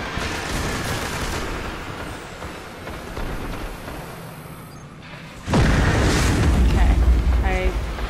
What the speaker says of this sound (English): I managed to avoid the explosion by going the wrong way